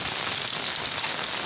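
Rain pours down on a village street, a continuous broadband patter and hiss with no voices, steady and fairly close.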